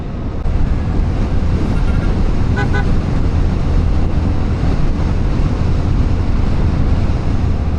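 A horn sounds briefly on a bypass road, heard from a Yamaha Sniper 155 motorcycle during a long Manila-to-Samar ride, beneath steady loud wind and engine roar.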